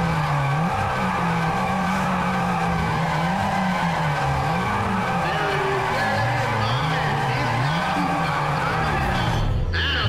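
In the Need for Speed ProStreet racing game, a car does a burnout to warm its tires. The engine revs continuously and loudly, rising and falling, under a sustained screech of spinning tires for about ten seconds.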